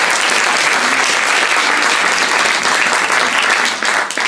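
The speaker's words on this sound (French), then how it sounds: "je pense qu'on peut déjà les applaudir." A theatre audience applauds a performing troupe with loud, full, sustained clapping that fills the hall and eases slightly near the end.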